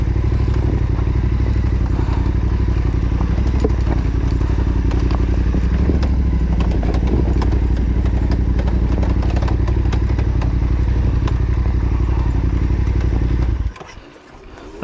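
A T7 rally motorcycle climbing off-road on a test ride: loud, continuous engine drone with clattering and thumps from rough terrain throughout, cutting off abruptly near the end.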